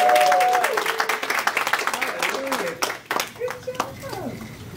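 Church congregation at a youth Easter program cheering and clapping, broad applause with voices rising over it, loud and close, fading slightly toward the end.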